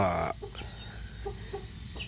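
Newly hatched chicks and hens at a Thai fighting-cock breeding farm, with a loud cluck at the start followed by several soft, scattered cheeps and clucks in a quiet barn.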